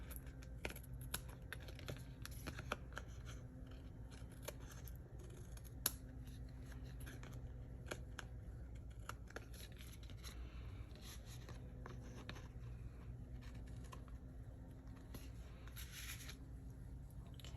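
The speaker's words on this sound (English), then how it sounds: "Then I'm just going to come back with my paper snips on the back side and trim off any" Paper snips trimming excess card stock from the back of a handmade Stampin' Up! card give repeated small, crisp cuts, close and quiet, with faint rustling between snips.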